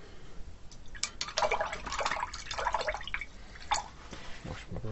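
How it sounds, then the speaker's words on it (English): An acrylic paintbrush is swished and rinsed in water, making close, soft sloshing with bursts of splashing and dripping that rise and fall over a few seconds. "Wash my brush."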